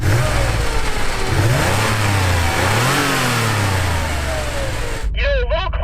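A 1980s car engine, likely the Porsche flat six, revs loudly up and down in repeated swells before cutting off abruptly, leaving faint noises behind.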